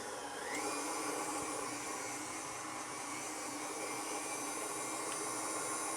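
An electric mixer whirs steadily, cooling hot galaktoboureko custard mixture in a bowl, a constant motor drone with a faint high whine and no talk.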